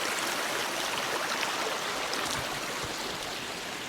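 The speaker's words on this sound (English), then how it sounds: "Looks like we came to a creek." A backcountry creek flows steadily on a day hike, a dense, continuous rush of water close by with no voices over it.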